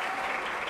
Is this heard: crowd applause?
yes